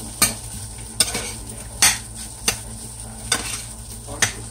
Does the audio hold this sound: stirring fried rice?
yes